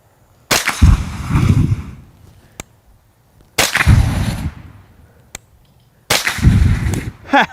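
Three loud, sharp gunshots from CCI subsonic rounds, spaced a few seconds apart, each with a long rumbling echo that trails off, fired outdoors in a thermal optics test.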